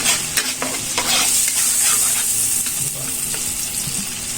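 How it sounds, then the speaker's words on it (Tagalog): Buffalo wings frying in a pan as imported hot sauce goes in, a steady close sizzle with stirring scrapes and clatter throughout, no talking. "Lagyan natin itong imported na hot sauce."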